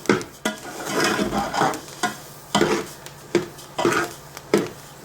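Dry coriander seeds rattle and scrape in a pan as they roast and are stirred, with soft crackling between repeated scraping strokes; no talking.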